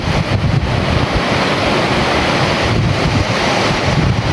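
Rushing water in a snowy mountain valley at Mundi, a loud, steady roar of broad noise that fills the whole span, with wind buffeting the microphone and no voices.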